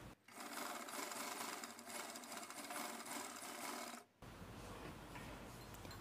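Sewing machine running steadily while stitching blouse front cuts, a continuous fast mechanical buzz for about four seconds, then a brief stop and quieter rustling of fabric afterward.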